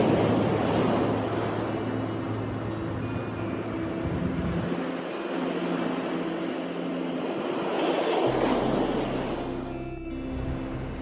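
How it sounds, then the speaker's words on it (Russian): Sea waves break steadily on an Apulian shore in Italy in autumn, a loud continuous surf wash that swells in repeated surges, with wind buffeting the microphone and no voices. "Волны просто офигенные, вообще какие."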